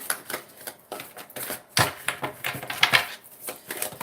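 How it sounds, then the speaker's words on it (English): Tarot cards are shuffled by hand, giving a close, continuous run of crisp riffling and slapping card sounds in quick, uneven bursts. "I'm going to shuffle for a couple more of them"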